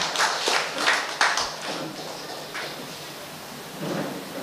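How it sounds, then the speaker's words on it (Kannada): At a high school alumni reunion gathering, the audience breaks into a rolling burst of clapping for the organizers, loud at first and then fading into scattered claps. "ದಯವಿಟ್ಟು ಒಂದು ಚಪ್ಪಾಳೆ ಮೂಲಕ ಈ ಸಂಘಟಕರಿಗೆ."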